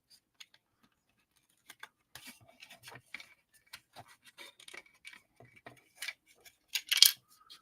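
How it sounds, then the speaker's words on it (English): Small plastic parts of a model kit are fitted together close by, producing sparse, faint clicks and tiny ticks that come in irregular bursts and grow into a brighter snap near the end, with quiet between them. "There it is. Clicked right into place."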